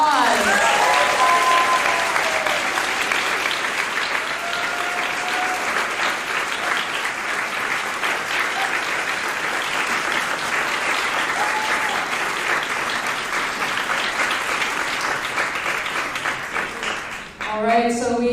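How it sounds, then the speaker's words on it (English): A university audience gives a sustained round of applause, dense and even clapping that fills the room for many seconds, with some voices mixed in, before it fades away at the end. "If everyone could give another round of applause."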